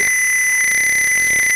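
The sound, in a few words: Arduino buzzer beeping in Tinkercad simulation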